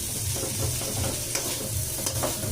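Tomato and onion sautéing in a pan, a dense, continuous sizzle with quick, close stirring and scraping strokes and no talk.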